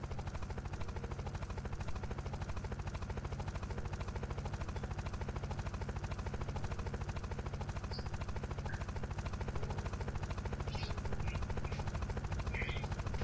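Unturned helicopter droning steadily at close range, the fast rotor thump and engine roar continuous and unchanging, with faint voice-like sounds mixed in.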